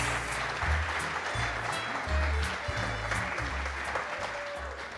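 A crowd applauds steadily at a documentary film festival awards evening, welcoming two presenters to the stage; a dense, continuous clatter of clapping holds loud throughout with no pause.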